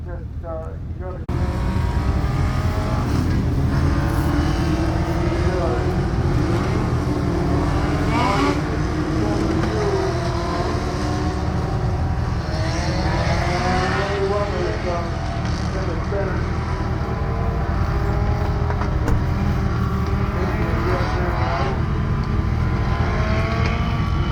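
Legend race cars idling and revving on the dummy grid at Bega Speedway, a steady engine drone that stays loud throughout with rising and falling revs, under a commentator talking.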